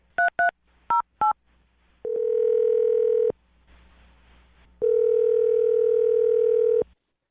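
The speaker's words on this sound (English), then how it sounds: "I'm going to dial her phone number and see if we can get her on the phone." A telephone keypad beeps out several short paired tones, then a steady dial tone sounds, stops, and returns for a few more seconds, all clean and close with no voices.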